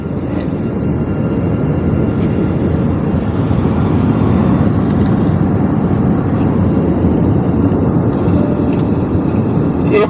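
Steady, loud cabin roar inside an IndiGo airliner descending into Chennai on a Delhi-to-Chennai flight. The deep engine and airflow drone stays even throughout, with no voices.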